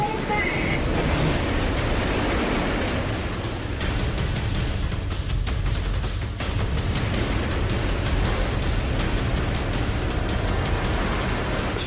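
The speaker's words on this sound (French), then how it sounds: "Frank lutte contre des vagues de 6 mètres." Heavy six-metre ocean waves and strong wind batter a boat at sea, a dense, continuous roar of surf and wind noise that fills the whole stretch without letup.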